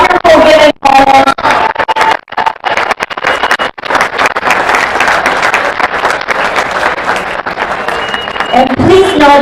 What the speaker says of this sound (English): Let's give the entire crowd a huge round of applause for this wonderful giving moment